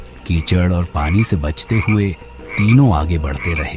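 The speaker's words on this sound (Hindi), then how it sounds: "कहीं दूर से मेंढकों की टर्राहट" Frogs croak steadily in the distance on a dark night near a jungle, a rhythmic low croaking running beneath a narrator's continuous spoken voice in a horror-story setting.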